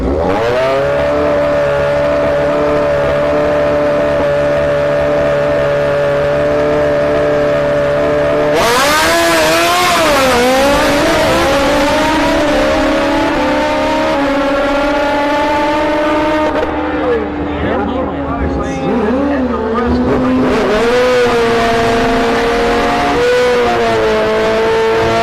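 Drag racing motorcycles, a Kawasaki ZX14 in the left lane and a Suzuki Gixxer in the right, scream loudly at a no-prep event at Orlando Speed World, engines droning steadily and then revving sharply as they launch.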